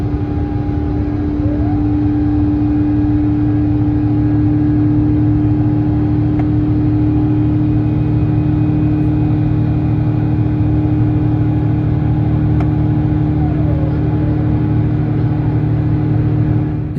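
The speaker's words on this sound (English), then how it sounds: "Sitting in front of the wing on this plane is just so much better, both for the sound and this view of the engine." A steady, droning whine and hum of Airbus A350 engines fills a Singapore Airlines business-class cabin in flight, seated ahead of the wing, constant and loud with a faint tonal whir and no talking.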